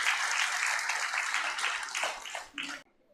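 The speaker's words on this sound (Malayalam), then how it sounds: "നിറഞ്ഞ കയ്യടിയോടുകൂടി അദ്ദേഹത്തെ സ്വീകരിക്കും" A crowd at a meeting applauds a speaker with dense, sustained clapping that thins out and stops abruptly near the end, full and close, with no talk over it.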